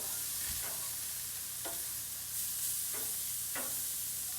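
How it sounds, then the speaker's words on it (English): Sous vide filet mignon steaks sear in a hot pan with a soft, continuous sizzle, broken by a few sharp scraping or shifting sounds spaced about a second apart, quiet and without speech. "all I'm doing now is getting a nice sear on the outside"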